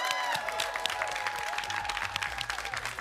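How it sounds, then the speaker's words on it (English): An audience at a school Super Smash Bros. Ultimate team battle grand final bursts into dense, sustained applause with cheering and whistles, a loud crowd roar filling the hall. "can I please get you to give a massive cheer to Caldy Grange Grammar School?"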